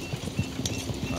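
Horse hooves clip-clop in Red Dead Redemption 2, a steady run of close, distinct hoof strikes at a walking or trotting pace, with no talk over them.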